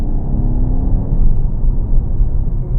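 Mercedes-AMG GT 53 with performance exhaust on a downshift: a loud, steady low engine rumble and whir from close by, with no talk over it.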